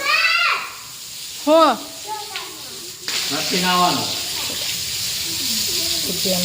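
Water from a motor pump sprays onto a floor being washed, a continuous broadband hiss that starts partway through and runs on steadily while people talk over it nearby.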